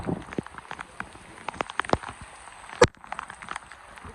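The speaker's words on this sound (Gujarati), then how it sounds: "જેમ જેમ ઉપર જાય છે વધારે વરસાદ આવે ભાઈ." Rain falling on Datar hill near Junagadh, heard as irregular nearby patters and drips of varying strength, with one sharp knock partway through.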